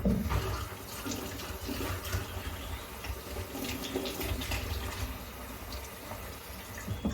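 Warm water runs steadily from a tap into a sink while a pet bird is bathed, making a soft, continuous splashing hiss at low volume with no talking.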